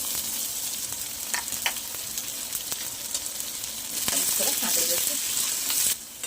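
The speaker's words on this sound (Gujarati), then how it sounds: "હવે એમાં કટ કરીને સ્લાઇસ કરેલા ડુંગળીના પીસને ઉમેરી દઈએ" Sliced onions sizzle in a pan with crushed coriander and fennel seeds for besan onion paratha, a steady close frying hiss punctuated by stirring clinks and scrapes.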